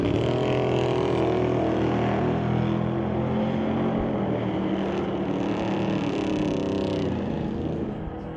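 Drag race cars, including a 1990 Blazer, roar steadily at a strip, a loud continuous engine drone with shifting pitch that fades slightly toward the end.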